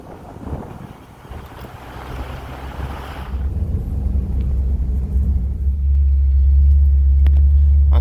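The engine of a 1963 Mercury Monterey, back running after years off the road, with a deep rumbling idle that grows steadily louder and heavier, mixed with wind noise across the microphone.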